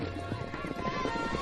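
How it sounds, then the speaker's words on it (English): Several horses moving around as children on horseback round them up out on the open range of Mongolia, with busy hoof clatter and shuffling under a steady outdoor background. "Outside, we watch the kids round up some of their horses."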